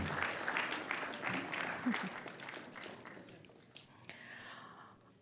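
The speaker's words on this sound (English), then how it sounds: "Please, a resounding round of applause." Applause from a crowd, a soft patter of clapping that gradually thins out, heard from some distance at low volume.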